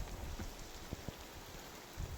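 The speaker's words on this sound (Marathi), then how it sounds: "वरून पाऊस पडतोय लिंबाखाली पण एकदम भारी असा पाऊस झाला" Soft, steady rain patters close by, with a few distinct drops tapping through the quiet hiss.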